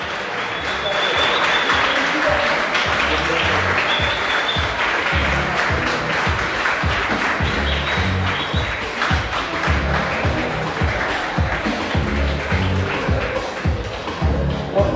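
An audience at an evening outdoor star-watching festival applauds steadily for a welcomed association, sustained rhythmic clapping with shuffling and talk underneath.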